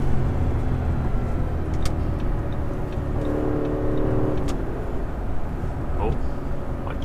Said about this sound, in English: Listen to that V10 sing.